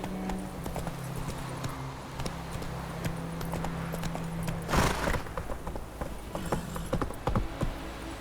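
Hooves of Roach, the horse in the video game The Witcher 3, clip-clop steadily at a walking pace, close and clear over a low ambient hum, with a brief louder burst midway.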